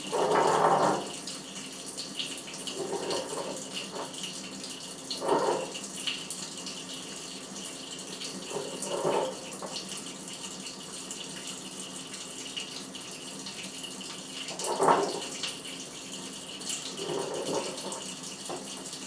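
Tap water runs into a measuring cup in short, faint bursts, each a soft splashing pour separated by quiet pauses, with no voices.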